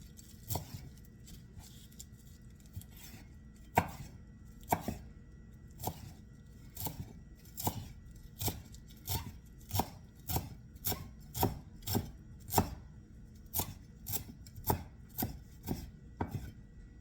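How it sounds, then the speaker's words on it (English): A knife mincing an ingredient on a cutting board for a monkfish, Swiss chard and sesame seed paella, with steady rhythmic chops that speed up into a quick run of sharp, close taps and no talking. "We're going to mince this too into 1 tablespoon and leave it on the cutting board"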